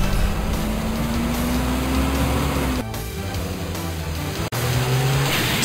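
Car engine droning steadily in Mega Man Legends, with a rising engine tone, then an abrupt crash at the ramming and a second sharp impact near the end, loud and close throughout.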